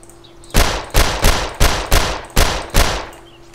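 Seven evenly spaced gunshots from a weapon in the DayZ video game, loud and sharp with short decays, fired alone in steady rhythm over a faint background hum.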